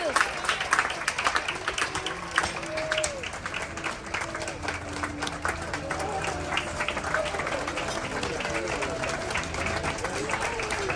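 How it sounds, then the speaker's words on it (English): Passengers on the cruise ship Anthem of the Seas applaud the dining staff, with sustained, dense clapping filling a dining room while voices and cheering carry underneath. "So as they come around, ladies and gentlemen, just give them a big round of applause."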